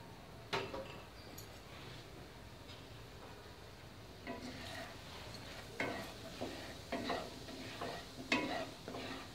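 A spoon stirs one spoonful of turmeric powder into three spoonfuls of hot oil in a pan, making soft scraping and faint sizzling with a few louder clinks toward the end, close but quiet, no voices.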